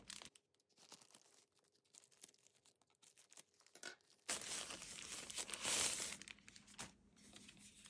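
Packaging is crinkled and then torn open during an unboxing, quiet rustling first and then louder, sustained ripping and crumpling close by.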